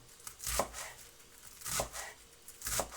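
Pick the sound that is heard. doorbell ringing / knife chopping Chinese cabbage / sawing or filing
knife chopping Chinese cabbage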